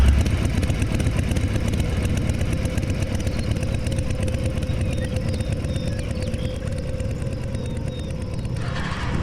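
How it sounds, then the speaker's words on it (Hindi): A motorcycle engine drones loudly and steadily, close at first, its rumble easing slightly toward the end as it pulls away. "तुरंत बाइक लेकर कब्रिस्तान से बहुत दूर चला गया"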